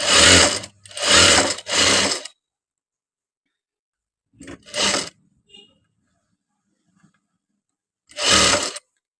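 A Juki or Jack F5 industrial sewing machine set to stitch length 5 runs in short, loud, close bursts: three quick runs, a pause, a shorter run, and then a final burst.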